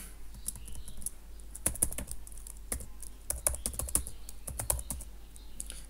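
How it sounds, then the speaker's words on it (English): Close computer keyboard typing a command in a Kali Linux terminal, a run of quick, crisp key clicks in irregular bursts over a low steady hum, with no voice. "type ping, then type the targeted website"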